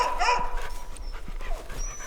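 An excited dog pants in quick, rhythmic breaths while being fitted into an X-back harness, with a few whimpery yips near the start, close and fairly loud.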